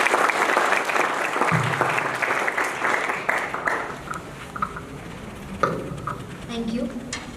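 Audience applause rings out at a GST officials' discussion and motivational session for CGPSC prelims candidates, loud and dense at first, then thinning and fading as scattered claps trail off and a voice begins to speak.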